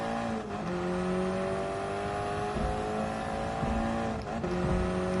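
A race car in Gran Turismo Sport drifts through a corner on the Tokyo Expressway, its engine droning loud and steady with pitch shifts as it shifts gears and revs, alone without talk.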